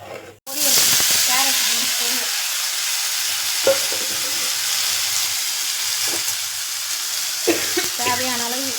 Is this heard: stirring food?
yes